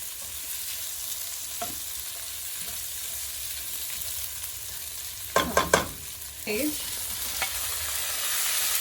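Punjabi chole simmering in a pan gives a steady low sizzle, broken near the end by a few sharp scraping stirs of the spoon against the pan, close and fairly loud, with no one speaking.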